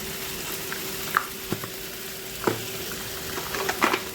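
Ginger and dry spices (turmeric, Kashmiri chilli, cumin powder) fry in a pan with a steady soft sizzle, broken by a few light clinks of stirring, close and quiet with no talking.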